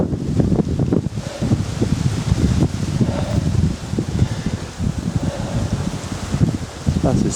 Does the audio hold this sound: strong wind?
yes